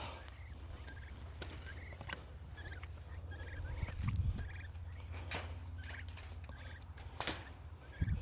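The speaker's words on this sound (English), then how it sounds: "We hear you in here. Peep, peep, peeping." Turkeys calling from inside a net enclosure on moving day, a string of short, repeated gobbling and peeping notes spread across the stretch, some louder bursts near the middle, over a low constant background hum.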